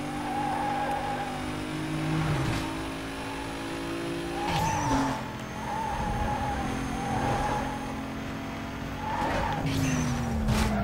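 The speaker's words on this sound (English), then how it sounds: "That drift was dope." In Need For Speed Most Wanted, a car drifts with loud, sustained tire squeals over a steady revving engine, skids flaring in bursts as it slides through turns, with no speech.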